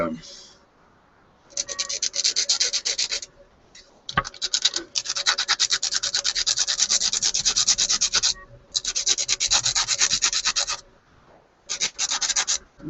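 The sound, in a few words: mixing epoxy for model building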